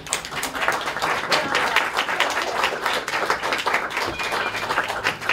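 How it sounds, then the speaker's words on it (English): Guests at a same-sex wedding in Sydney applaud, giving a continuous ripple of clapping from a gathered crowd, moderately loud, steady throughout and without speech. "So please give them a round of applause."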